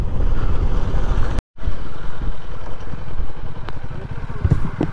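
Motorcycle engine running continuously under heavy wind rush, as if heard while riding, with a brief dropout about a third of the way through.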